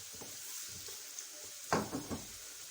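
Vegetables frying lightly in a pan for macaroni, a soft steady sizzle with a few louder stirring scrapes and clatters near the end.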